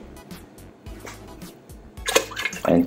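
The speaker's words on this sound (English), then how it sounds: "Now we're going to add water enough that it's just a couple of inches above the meat." Water is poured into a cooking pot of lamb for Moroccan couscous, a soft, uneven trickle that swells into louder splashing near the end, close by and with no voices.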